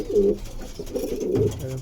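A pair of Andhra Star kalanka pigeons coos in a pigeon loft, giving low, rolling calls that repeat close by and fairly loud across the whole moment, with no talking.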